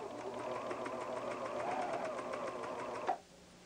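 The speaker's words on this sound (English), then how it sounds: "Continue serging straight." A Pfaff Hobbylock serger runs continuously while stitching and trimming fabric edges, giving a steady fast mechanical whir with rapid rhythmic ticking, close and moderately loud, before stopping abruptly near the end.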